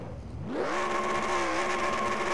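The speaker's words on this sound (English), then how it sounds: "Continuing his burnout now." A race car in a racing video game performs a long burnout, its engine rising from a low rumble into a sustained high-revving whine with steady tire noise, loud and continuous without any voices.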